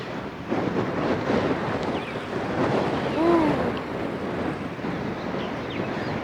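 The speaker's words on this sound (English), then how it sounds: "I'm gonna wait for this wind to calm down a bit." Steady, loud wind buffets the microphone at a coastal landscape photo spot in Hawaii, a continuous broadband roar with gusts swelling and easing throughout and no one speaking.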